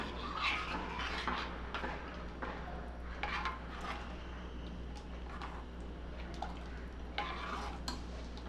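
Salt being stirred into khalgut curry in a pan: soft repeated scraping and clinking of a spoon against the pan over a low steady hum, fairly quiet, with no voices.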